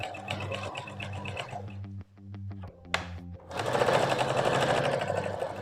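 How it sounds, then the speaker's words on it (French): A sewing machine stitches sweater sleeves about 1 cm from the edge, its needle hammering in a steady mechanical rhythm, pausing briefly into a few separate clicks before running fast and loud again. "Et je viens coudre chaque manche à 1 cm du bord."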